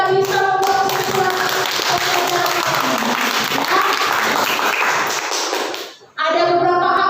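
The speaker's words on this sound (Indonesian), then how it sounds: "Tepuk tangan dulu untuk teman-temannya yang sudah bisa membuat kesimpulan." A classroom full of people claps together in sustained applause, dense and steady, fading briefly near the end before voices resume.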